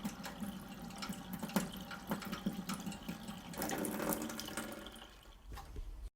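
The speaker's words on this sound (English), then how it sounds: "check to ensure that the water is flowing through as it should." Water rushes and gurgles through household pipes after a stopcock repair, a faint, continuous flow with irregular splashing pulses that tapers off near the end.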